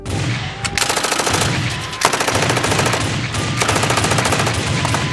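Loud, rapid machine-gun bursts rattle almost nonstop for several seconds, staged as terrorists open fire after spotting a drone in a Bengali Independence Day audio drama.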